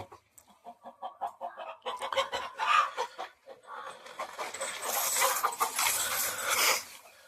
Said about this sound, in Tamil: இந்த கோழி இப்போ முட்டு வச்சுட்டு இருக்குது